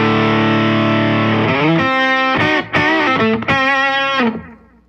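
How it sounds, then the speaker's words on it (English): Heavily distorted electric guitar playing a few sustained, fuzzy chords through a 10-band multiband distortion effect, loud and saturated, ending with a fading ring. "Just a nice, rich 10-band distortion sound."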